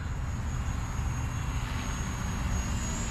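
Small radio-controlled helicopter flown outdoors in gusty wind, its rotor and motor giving a steady broadband whirring drone that stays constant and moderately loud throughout, with no voices.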